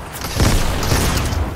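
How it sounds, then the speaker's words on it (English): A grenade in the Fortnite video game goes off as a heavy, booming blast with a rumbling low end that lingers for over a second, loud and close, with no voices over it. "Throwing grenades? Those are my grenades."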